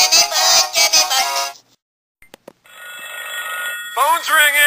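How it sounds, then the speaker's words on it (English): A telephone bell rings in bursts, then falls silent with a few faint clicks before ringing resumes; a voice speaks over the final ring. "Phone's ringing."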